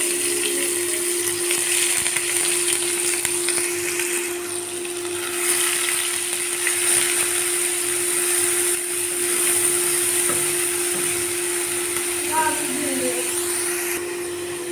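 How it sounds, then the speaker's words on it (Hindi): Loud, steady whirring drone of an induction cooktop's fan runs through the whole stretch in a kitchen while onions cook in a hot kadhai, with a constant tonal hum and some talk underneath. "इंडक्शन की आवाज़ बहुत ज़्यादा है"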